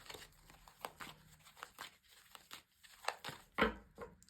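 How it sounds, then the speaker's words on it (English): Tarot cards shuffled by hand in a quiet room, a series of soft, uneven papery riffles and slides with one sharper crinkly burst near the end, close and faint, no voices. "so a good shuffle"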